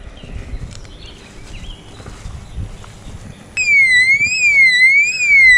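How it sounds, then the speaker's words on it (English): A motion-detector deer deterrent alarm suddenly starts partway through, a loud rising and falling electronic siren that sweeps up and down, cutting in over quiet outdoor footsteps in a garden planting. "That's the motion detector light and strobe light that I bought last year to help deter the deer."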